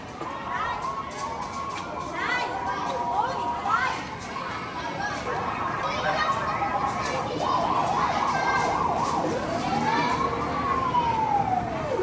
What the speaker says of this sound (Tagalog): Ng bumbero pala ito, bumbero.